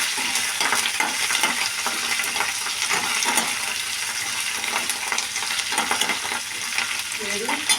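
Urad dal and curry leaves frying in oil for okra chutney, a close, continuous sizzle with frequent light scraping and stirring clicks.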